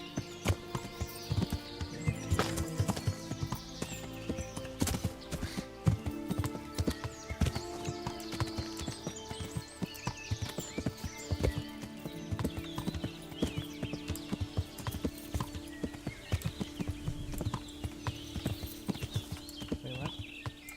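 Horse hooves clop steadily as a rider travels through medieval Bohemia in a video game, a continuous rhythmic beat of hoofbeats lasting about twenty seconds with no pauses.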